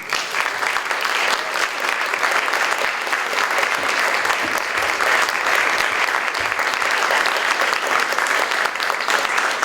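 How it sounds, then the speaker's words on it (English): Thick, sustained applause from a book festival audience after a poetry reading, many hands clapping at once in a loud, even wash with no pauses. "Let's keep that round of applause going"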